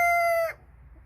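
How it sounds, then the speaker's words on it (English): A rooster lets out the clear, loud tail end of a crow close by, which cuts off abruptly into near silence. "Would you hush, Rooster?"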